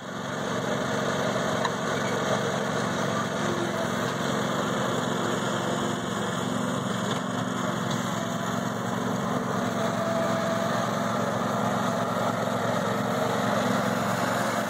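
A lawn mower engine runs steadily and close by, a constant high-pitched buzzing drone with no pauses.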